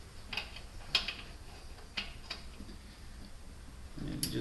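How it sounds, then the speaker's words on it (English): A 3/8-inch ratchet clicks on the square drive of an automatic serpentine belt tensioner on a GM Vortec 5.7 350 V8, giving several sharp, separate metallic ticks at irregular intervals, close up, with no talk. "You take your 3/8 ratchet"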